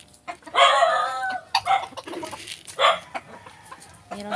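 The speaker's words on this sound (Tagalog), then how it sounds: "Mga alagang manok." Backyard chickens cluck and squawk close by, a mixed flock of small bantams, roosters and hens, with bursts of loud calling between quieter stretches.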